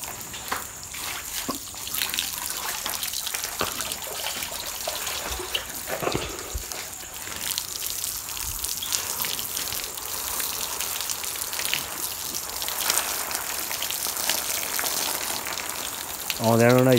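Water is poured and sprayed over cattle being bathed on a hot night at a farm shed, making a continuous close splashing and trickling hiss that runs on without a break.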